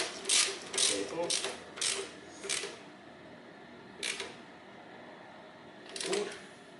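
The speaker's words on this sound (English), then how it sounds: "I take this 12 1-2 mm socket, and I fasten this cable." A ratchet wrench with a 12 mm socket tightens a clutch cable fitting during a front-wheel-drive car clutch replacement, giving several short bursts of clicking, a cluster early on, then isolated ones later, close and moderately loud with no talking.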